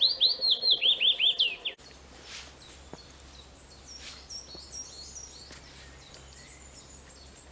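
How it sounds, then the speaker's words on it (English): A willow warbler calls in Bourne Woods, a close, clear run of descending chirps repeated rapidly for a couple of seconds, then quieter, more distant bird notes scatter over soft woodland ambience. "I found my first willow warbler."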